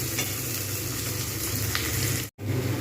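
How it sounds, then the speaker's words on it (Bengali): Onions frying in a pan for a capsicum chicken dish, a dense steady sizzle close up with light scraping, cut by a brief dropout near the end before the sizzle resumes. "পেঁয়াজগুলো একদম পুরো সুন্দর করে ভেজে নিয়েছি।"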